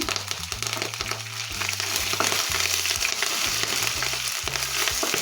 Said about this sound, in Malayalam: അപ്പോൾ അതിൻ്റെ കൂട്ടത്തിൽ ഒരു ഇത്തിരി കരിവേപ്പില ഇട്ട് കൊടുക്കുന്നു